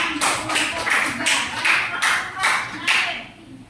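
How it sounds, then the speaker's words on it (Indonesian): A classroom of students at a vocational school claps for a presenting group in a series of rhythmic, sharp bursts roughly every half second, fairly loud and close, with voices mixed in underneath. "Tepuk tangan untuk kelompok 3."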